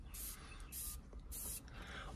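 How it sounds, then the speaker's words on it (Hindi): Perfume spray bottle spritzed inside a Toyota Hyryder G Hybrid car: three short hissing sprays in an even rhythm, close and clear, with faint background sound between bursts. "इस परफ्यूम को दो से तीन बार कुछ इस तरीके से स्प्रे करना होता है"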